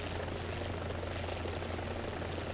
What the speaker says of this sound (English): And God, this is a sexy helicopter.